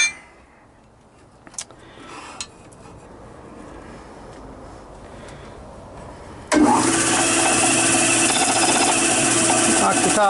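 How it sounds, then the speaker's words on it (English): A power sander smooths a turned wooden mushroom, kicking in loudly after a quiet stretch with faint knocks and then running steadily with a bright, gritty whine. "So I just take it over to the sander."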